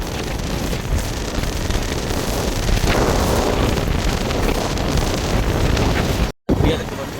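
Loud, roaring storm wind in Jaffna buffets the microphone continuously near water washing onto a road, a heavy rushing blast with a brief cutout near the end.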